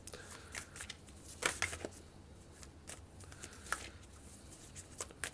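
Divination cards are shuffled in a soft, continuous riffling and slapping, quiet and close, with small crisp flicks throughout and no talking.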